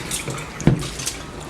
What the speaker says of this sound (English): So you drain your water